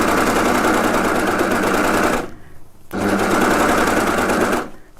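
An overlocker serger runs at high speed stitching a cushion seam, a loud, close, rapid mechanical whir in two bursts separated by a short pause, the second stopping near the end.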